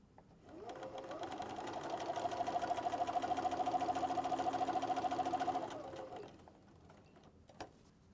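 A sewing machine, fitted with a regular or walking foot, stitches a quilted fabric wall calendar in one steady, close, continuous run that winds up, holds an even whirring rhythm for several seconds, then slows and stops, with no one talking.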